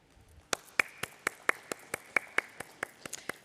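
A small audience at a stock exchange listing ceremony claps in a sparse, steady rhythm of about a dozen distinct claps, fairly quiet and without talk.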